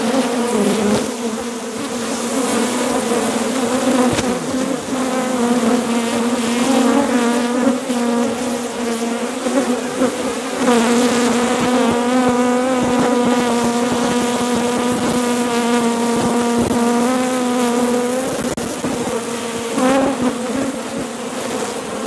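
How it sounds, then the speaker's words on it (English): Wild African honeybees hum in a steady, loud, continuous drone throughout, a dense swarm close by with no talk over it. "They are, Sam, they are African honeybees, wild African honeybees."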